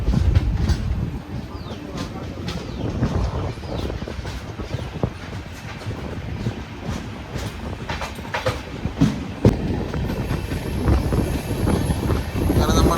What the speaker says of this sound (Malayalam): ലോക്കോ സ്പീഡ് എടുത്ത് തുടങ്ങിയിരിക്കുക കേട്ടോ.